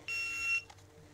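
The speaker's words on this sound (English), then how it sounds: "Once the buzzer's gone" A single short, sharp electronic beep from a shot timer at an IPSC practical mini rifle shooting line, high-pitched and clear, lasting about half a second.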